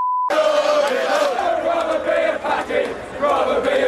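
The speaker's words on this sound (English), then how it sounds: "racist chanting from a section of the crowd" English football fans chant as a loud, massed crowd of voices in a stadium setting, the roaring chant starting abruptly after a short steady tone and swelling and dipping throughout.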